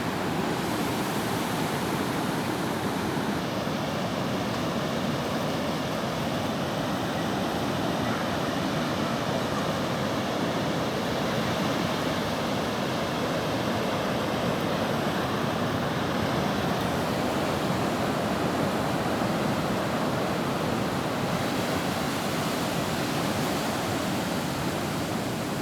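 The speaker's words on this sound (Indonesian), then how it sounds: "Suasana di pantai pagi hari." Morning surf at Karangpakis beach after a night of rain produces a constant, loud wash of breaking waves, a dense unbroken roar with no distinct pauses.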